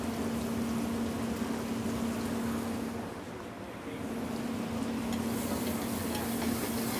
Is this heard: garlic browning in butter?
yes